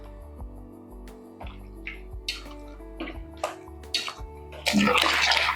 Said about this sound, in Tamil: குழம்புக்கு தேவையான அளவுக்கு தண்ணியை சேர்த்துடலாம்